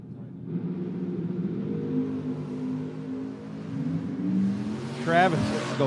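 Drag race car at a memorial drag race launching hard down the strip, a loud sustained engine roar building in pitch, with a crowd or announcer voice mixed in near the end.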